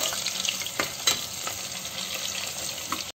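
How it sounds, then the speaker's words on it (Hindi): Onions frying in a pan give a steady, close sizzling hiss with a few brief clinks and stirring noises, ending abruptly. "और प्याज को साथ साथ फ्राई कर लेते हैं।"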